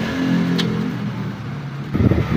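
Hyundai Tucson engine idling steadily with a low, continuous hum after its transmission support was replaced with one made from tire rubber, a rougher rumbling surge near the end.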